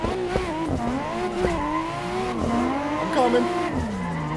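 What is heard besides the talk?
Nissan Skyline R32 drifting with tire squeal, Assetto Corsa video game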